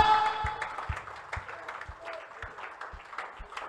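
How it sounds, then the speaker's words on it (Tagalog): Church congregation clapping in praise to God, a steady rhythmic beat of hand claps at about two per second over a reverberant hall with faint voices and music. "Palakpakan po natin ang ating dakilang Diyos."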